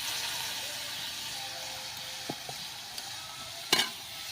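Boiled val beans being sautéed in ginger-garlic paste in a pan over a wood-fired stove, a soft continuous sizzle with a few faint stirring clicks and one sharper clink near the end, no voices.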